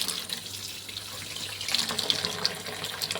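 Water runs steadily from a tap into a garden bucket in hot weather in Israel, a continuous close splashing stream with small droplet sounds.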